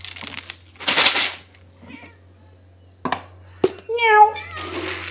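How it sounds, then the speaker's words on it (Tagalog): Cats meow several times, close and clear, around a house in a rainy Philippine province, with a person talking briefly between the meows. "Ang mga pusa, oh."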